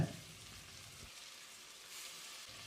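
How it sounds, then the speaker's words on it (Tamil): Soft sizzling from a pan sautéing coriander and mint leaves, a steady low frying hiss with a brief stir near the start, fairly quiet and close, no talking. "ஒரு முப்பது செகண்ட் இதை வதக்கி விட்டுறலாம்"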